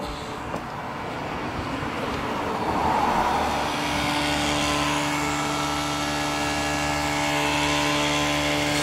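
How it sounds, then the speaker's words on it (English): A 1976 GMC Sprint with its electric fuel pump running, a steady mechanical whir and hum that swells after the first seconds and then holds constant, close and fairly loud with no talking. "try and get this thing to turn over by the key, and letting that gas pump out."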